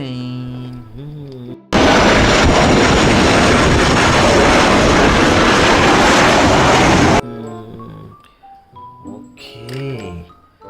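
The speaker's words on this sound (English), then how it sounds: "This is plane." A loud, dense roar of an airplane passing rushes in suddenly and holds steady for about five seconds before stopping abruptly, with someone talking before and after it.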